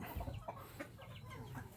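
A breeder fighting rooster clucks softly in its pen, a few low, faint, irregular clucks against quiet background noise.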